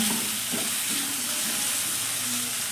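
Finely chopped tomato sizzles and hisses steadily in a pan over a full-flame gas burner, with soft stirring scrapes under a close, continuous fry.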